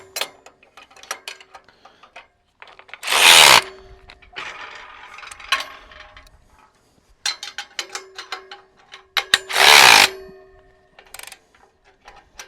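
Bolts on a tine rake wheel kit being tightened with a ratchet wrench, giving quick clicking ratchet bursts between louder rasping pulls, close and fairly loud, with no talk.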